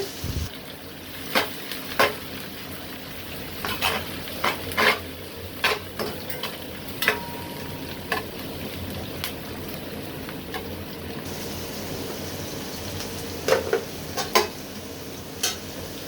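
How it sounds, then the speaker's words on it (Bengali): Chopped onions frying in oil and ghee until golden brown for a beef chaap bhuna: a soft continuous sizzle beneath repeated scraping, stirring strokes and clinks of a spatula against the pan. "এইভাবে পেঁয়াজটা বেরেস্তা করে নিতে হবে।"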